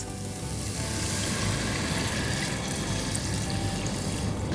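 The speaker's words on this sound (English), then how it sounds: "Let's add some water to this." Water goes into a pan of sizzling masala for a Bengali fish curry, producing a loud, steady hiss and crackle of frying that continues without pause.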